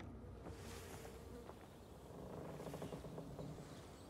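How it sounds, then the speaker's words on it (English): Bees buzz steadily in the Dying Light 2 video game, a faint, continuous insect drone heard alone with soft ambient game sound beneath it. "Do I hear bees? I can hear bees."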